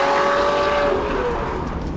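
Lamborghini Murcielago LP640 driven hard, a loud engine note with a rising whine that fades slightly as the car pulls away, with no talk.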